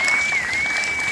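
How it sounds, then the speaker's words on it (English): Brief burst of audience applause for a panel at an electric vehicle show in Vancouver, dense even clapping with a faint steady tone running through it. "How about a round of applause for our amazing panel?"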